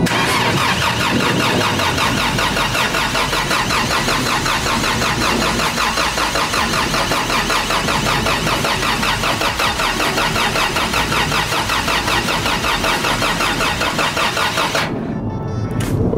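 Honda 1.6 VTEC car engine turning over on the starter with no fuel pump or ignition connected, a loud continuous rhythmic cranking for about fifteen seconds before stopping abruptly.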